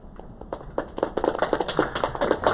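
A small group claps at an academic talk, starting with scattered claps and building to steady applause, fairly close in a room.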